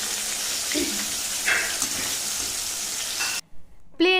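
Onion and chilli frying in hot oil, a steady close sizzle with stirring scrapes through most of the clip before it drops to near silence, then a brief tonal clatter at the end.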